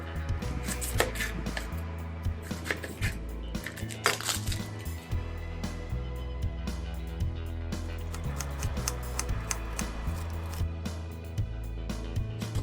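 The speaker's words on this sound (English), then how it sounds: "Okay, so I'll get chopping." A knife chops squid on a cutting board in quick, steady, closely spaced strokes, loud and close, with a faint musical background throughout.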